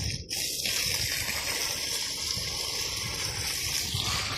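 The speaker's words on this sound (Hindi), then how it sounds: "दे रहे हैं पेड़ों को पानी।" Water gushes steadily from a garden hose onto fruit trees, pomegranate and rose plants in a hot outdoor yard, a continuous close, loud rushing splash with a faint hiss throughout.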